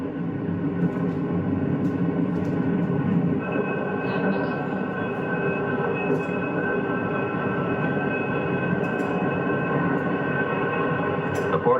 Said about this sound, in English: a small station where the train stops only for a moment